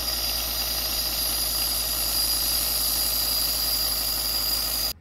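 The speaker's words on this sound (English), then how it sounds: "I'm just going to put it on the bench grinder and try to make it into a triangle" A broken screwdriver is ground into a triangle head on a bench grinder, producing a continuous loud whirring whine with a buzzing hum beneath it for about five seconds before it abruptly stops.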